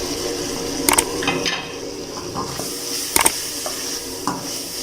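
Carrots stir-frying in a pan for Singaporean-style rice, a steady sizzle with a few sharp clinks of a utensil against the pan.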